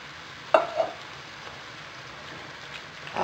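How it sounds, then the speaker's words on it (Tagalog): A pan of pork guisantes being stirred after diced tomatoes are added, with a brief scrape near the start, then a soft low simmering crackle, a faint second stir at the end. "Haluin lang natin to."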